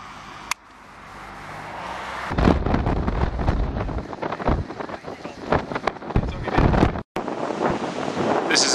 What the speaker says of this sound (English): This is a very windy and windswept Thirroul beach.